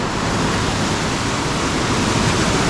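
Steady, dense roar of rushing water from a waterfall at Pucks Glen in the rain, a continuous broadband wash with no breaks and no voices.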